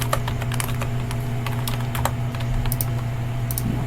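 Fingers tap rapidly on a computer keyboard, a close string of crisp, uneven key clicks over a faint steady electrical hum, with no voices.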